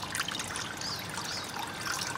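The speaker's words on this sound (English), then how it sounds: "to have a nice flow of the water just pouring out, you always need to cut 2 out of the 3 holes" Coconut water pouring in a steady trickle from two holes cut in a mature brown coconut, a continuous close, soft liquid dribble with no talk.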